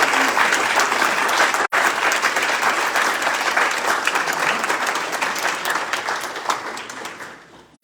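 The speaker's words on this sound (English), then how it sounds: "Let's give all of our Home Till Strides sponsors a round of applause" A large audience at an awards-night event gives event sponsors a sustained round of applause, dense and loud, thinning out and fading over the final seconds.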